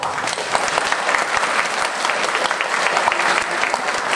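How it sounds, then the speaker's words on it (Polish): Audience applause at a primary school nativity gathering in Czarnocin after the children's dancing, singing and acting: dense, steady clapping from a full room, lasting the whole stretch at an even strength. "Jeszcze raz brawo."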